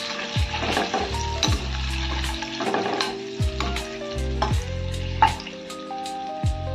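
Eggs shallow frying in a pan over a low flame with turmeric, red chilli and salt, for a dhaba-style egg masala: a steady sizzle with repeated scraping and clattering of a spatula against the pan, close and fairly loud, with no talk.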